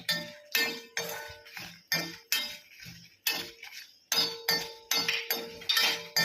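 Green peanuts roasting in a pan make repeated sharp, close clinks and rattles, irregular bursts of hard shells knocking against the metal with short quiet gaps between them.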